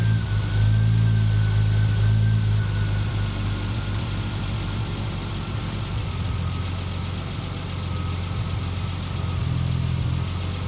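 Fuel-injected Triumph TR6 engine idling steadily at about 900 RPM, a close, continuous low rumble with a faint whine running through it and no talking.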